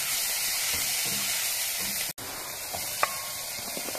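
Ginger garlic paste sizzles steadily in a hot pan as it is stirred, a constant close frying hiss with a few faint clinks and scrapes from the stirring.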